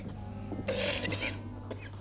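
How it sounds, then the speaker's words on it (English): A couple of rough, raspy coughs, close and moderately loud, over a low steady background hum. "I would see a doctor about that cough."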